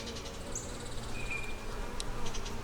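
Honey bees buzz around an open hive holding pollen, honey, nectar, larvae and brood, a steady close hum with individual bees whining past near the microphone, no talking.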